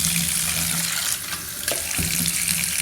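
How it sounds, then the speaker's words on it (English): Water is poured away into a kitchen sink after rinsing juice ingredients, a continuous splashing rush that stays loud and close throughout, with a brief clatter midway. "I'm pouring the water away because I'm going to"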